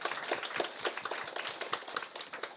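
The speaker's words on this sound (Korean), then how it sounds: "여러분 우리 오늘 첫 수업인데 크게 박수 한번 치고 시작할까요?" A lecture-hall class claps on the first day of an administrative-law course: a scattered, moderately quiet round of individual hand claps, with distinct sharp slaps spread unevenly across a couple of seconds.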